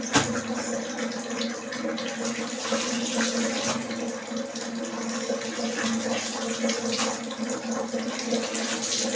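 A child dipping and rinsing a shirt in a tub of water while washing clothes, with a steady close splashing and sloshing wash of water running throughout, no voices heard.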